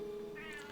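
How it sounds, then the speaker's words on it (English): A house cat meows to be let into a room, one short drawn-out mew, faint and close, with no talking over it. "I have a cat who's begging to get into this room anyway"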